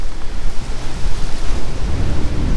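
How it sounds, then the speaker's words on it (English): Gusty wind buffets the microphone outdoors among stone ruins in Limassol, Cyprus, a loud continuous low rumble with rushing noise and fluctuating surges throughout, no voices. "Ooh, windy."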